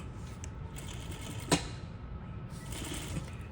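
A sewing machine running a 2.5 stitch in reverse hums quietly and steadily up close, with a single sharp click partway through.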